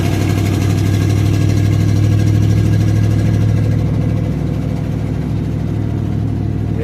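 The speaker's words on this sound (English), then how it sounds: "This old 302 Ford, it runs pretty good." A 1993 Ford with a 302 engine runs steadily in third gear at an easy pace, a loud, continuous low rumble heard from inside the vehicle with no pauses or sharp revs.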